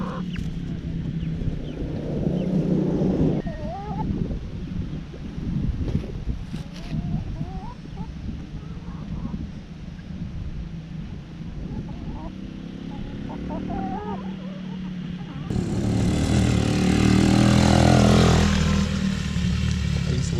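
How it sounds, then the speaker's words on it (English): A four-wheeler ATV drives around a farm yard, its engine rising and falling at moderate distance under talk, with fowl calling, then the motor grows louder and nearer near the end. "Loving his four-wheeler, and he's about to ruin the yard."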